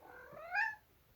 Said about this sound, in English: while I pet the cat